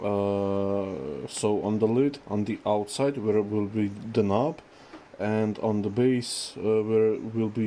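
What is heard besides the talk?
None of the usual background noises is heard.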